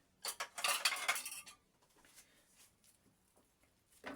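Diced onions tipped off a board onto a plate, heard as a quick burst of scraping and clattering against the dish, then a few faint taps and knocks in a quiet kitchen.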